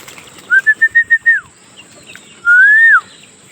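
Karna Pura pigeons beating their wings in flight, a quick run of about six rhythmic flaps, then a second longer burst, with a shrill whistle-like tone sliding over each, fairly close and with no talking.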